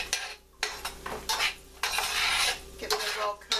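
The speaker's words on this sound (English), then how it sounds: "Okay, now that it's starting to bubble, I'm going to go ahead and add the onions." Onions dropped into bubbling butter in a pan, bringing a close hiss and sizzle along with clattering scrapes of a utensil stirring against the cookware, alone and without speech.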